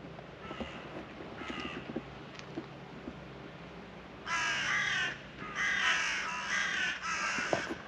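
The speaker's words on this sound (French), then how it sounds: "Bah, c'est des corbeaux, Eichel et Jekyll." Crows cawing loudly outdoors in repeated harsh bursts, a few fainter calls first and then several strong close caws in quick succession, with light wind in the background.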